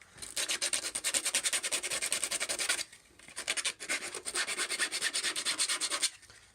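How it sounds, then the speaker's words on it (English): A Black Panther mask is sanded by hand with 80 grit sandpaper, giving close, loud, rhythmic rasping strokes in two long runs separated by a brief pause. "and I'm using 80 grit sandpaper."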